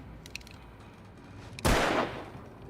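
Gunfire in the video game Alan Wake: a single loud, close burst of shots lasting under half a second, rising abruptly out of a quiet background hum.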